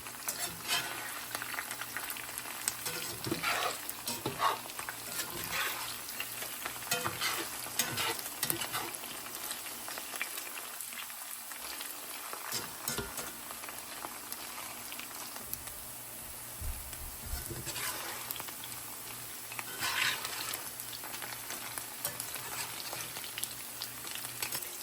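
Okra fries in oil in a home kitchen pan, a soft, steady sizzle and faint crackle running quietly throughout, with a brief dip in the middle where the frying thins out.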